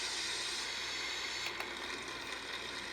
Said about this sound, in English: This is the white noise.